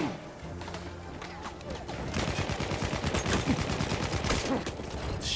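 Dense gunfire rattles through a Battlefield 1 World War I multiplayer match on PC, starting sparse and then turning into loud, continuous overlapping bursts of shots and impacts.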